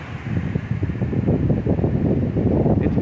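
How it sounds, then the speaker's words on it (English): Strong Hurricane Ian wind around a shipping-container home, a loud, steady roar of buffeting gusts that fills the whole stretch without any speech. "wow, it's windy."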